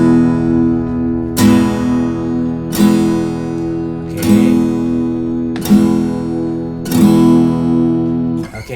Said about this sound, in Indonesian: Oke, itu adalah bunyi E mayor.